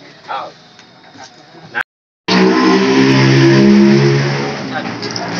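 Vehicles passing on a roadside, with a car engine revving up loud and close after a brief gap of silence, its drone sustained and slowly fading, preceded by softer traffic noise.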